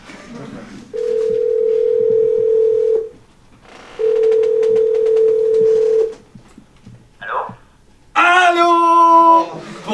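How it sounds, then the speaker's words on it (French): Over a speakerphone a telephone rings in two long, steady electronic tones separated by a pause, followed by a brief blip and then a voice answering over the line. "Ça sonne, je vous mets sur haut-parleur."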